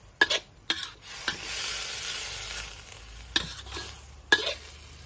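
Shrimp and stink beans are stir-fried in a pan: a steady sizzle broken by several sharp utensil scrapes and clanks against the pan, close and fairly loud.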